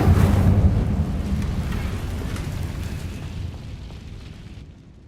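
The Incendio fire spell is cast in Hogwarts Legacy, producing a deep, rumbling whoosh-boom that starts loud and slowly fades over several seconds, with no voice over it.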